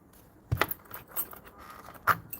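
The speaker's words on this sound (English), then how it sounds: "Get the keys out." A bunch of keys jangles close by, two bright metallic bursts about a second and a half apart with lighter rattling between, no talking.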